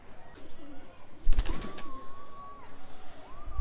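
Pigeons from a home loft cooing softly in the background, with a few brief sharper chirps and a flutter-like burst midway, plus a faint tonal whistle; quiet overall.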